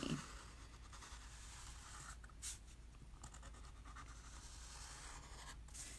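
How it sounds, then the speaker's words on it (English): Quiet scratching of pen on paper while lettering a painting design, faint and close, with brief soft strokes over a low steady background hum and no talk. "I can write it on paper first and then transfer it."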